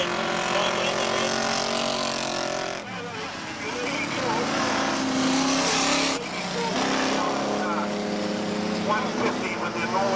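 Race cars at a 1994 speedway cannonball derby roar around the track, engines rising and falling as they pass close by, with a commentator talking over the racket.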